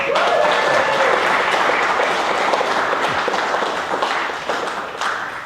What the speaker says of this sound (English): that's an excellent round of applause for an excellent person